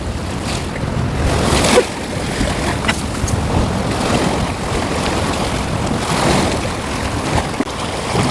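Winter waves breaking on the East Sea coast of Korea during shore fishing: a loud, continuous surf roar mixed with heavy wind buffeting the microphone, and no clear pauses between swells.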